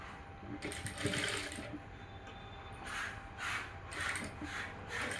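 A sewing machine stitching a puff sleeve, quick rattling bursts of needle runs, about five short runs with pauses between, close and clear with no talking.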